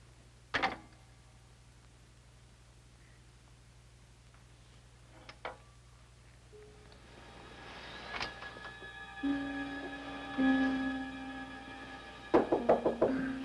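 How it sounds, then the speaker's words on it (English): Knocking on a door at night in an old classic film, a sharp knock near the start followed by quieter taps, then a run of louder raps near the end over faint room noise and some tonal background sounds. "You told me to knock when it got dark tonight in case you was asleep."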